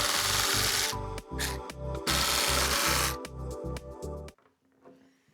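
Torx 25 screws are driven out of the windscreen of a BMW R1300 GS motorcycle with a power tool, giving several loud whirring bursts separated by short pauses before quiet at the end.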